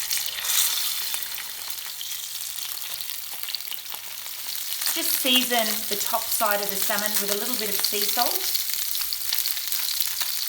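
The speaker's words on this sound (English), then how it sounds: "Hear that sizzle?" Salmon fries skin side down in hot olive oil in a pan, giving a steady close hiss and crackle throughout while a person talks over it.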